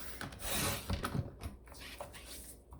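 A paper trimmer cuts cardstock in half at the six inch mark, giving brief close scraping and slicing sounds with light rubbing and handling noises between the cuts.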